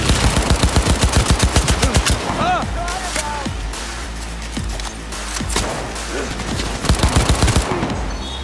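Rapid automatic gunfire in the Cyberpunk video game, a loud stream of sharp bursts that stops for a stretch with rumbling game sound underneath, then comes back in another fast burst near the end.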